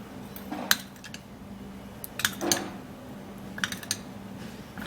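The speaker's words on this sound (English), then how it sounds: "put it into the turmeric and the honey and the milk, sorry, and then we'll mix it all up" A spoon clinks and scrapes against a bowl while turmeric, honey and milk are stirred into a paste, with a few sharp taps in scattered clusters over a low background hum.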